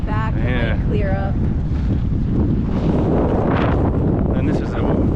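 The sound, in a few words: strong wind at Big Pine Lakes, California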